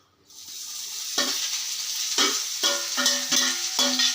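Chopped pirandai (adamant creeper) tipped into hot oil in a pan sets off a steady sizzle that swells over the seconds, with repeated scraping stirs breaking through the frying hiss.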